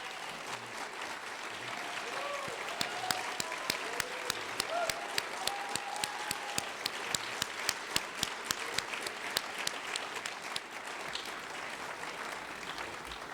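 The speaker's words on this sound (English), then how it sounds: "we can give them a round of applause" Audience at a literary awards ceremony applauding nominees, a sustained, fairly distant round of clapping with individual claps standing out, plus faint voices early on.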